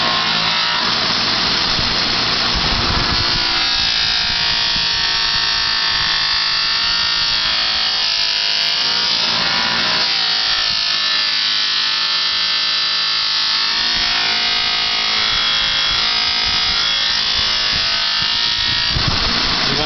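A buffing wheel with cutting compound polishing an aluminum motorcycle part gives a steady, loud, high whirring grind that runs unbroken throughout, with slight shifts in pitch as pressure changes.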